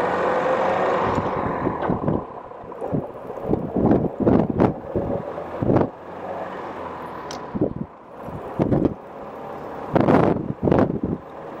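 A 1940s Rover 12 Tourer (P2) driving and shifting gears, its engine droning under heavy wind rush, with irregular knocks and clunks from the car as it picks up speed.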